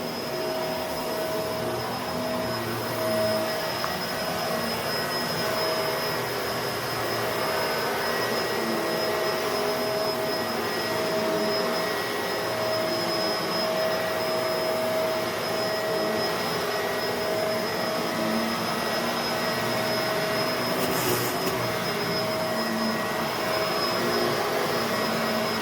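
Bissell MultiClean Allergen Lift Off Pet vacuum cleaner running continuously, a loud, steady motor whine with a high tonal hum and airy rush, unbroken and close throughout with no talking.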